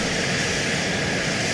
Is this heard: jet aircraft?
yes